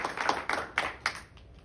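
A few sharp, separate hand claps from a small number of people, faint and uneven, trailing off after about a second, with no talk over them.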